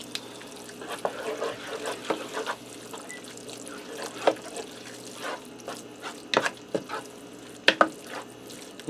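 Scraping and clinking of a utensil stirring hamburger casserole in a non-stick pan, irregular and close, over a faint sizzle with no talking.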